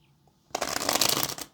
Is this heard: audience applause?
no